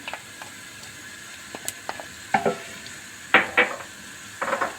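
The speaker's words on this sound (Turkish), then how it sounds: "Ve biber salçamı güzelce kavuracağım" Pepper paste stirred into sautéed onion in a pot for a pea stew with meatballs, giving a soft sizzle with a few scraping spoon strokes and clinks against the metal, close up and fairly quiet.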